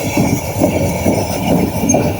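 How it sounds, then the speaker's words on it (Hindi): A train runs at full speed on the ML1 line from Karachi toward Hyderabad, heard from inside the car as a steady close rumble of wheels and carriage with soft rhythmic thumps, no voices. "ट्रेन अपनी पूरी मौजों के साथ भागते हुए ML1 पर कराची से हैदराबाद की तरफ।"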